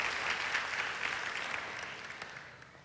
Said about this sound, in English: Let's give them all a big round of applause again, right?